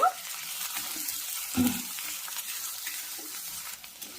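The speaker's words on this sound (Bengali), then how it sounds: "তেলের মধ্যে দিয়ে দিচ্ছি একটা বড় সাইজের কুচনো পেঁয়াজ। পেঁয়াজটা ভেজে নেব।" A large chopped onion dropped into hot oil, a steady close sizzle with a few stirring scrapes and a brief louder crackle partway through, no talking.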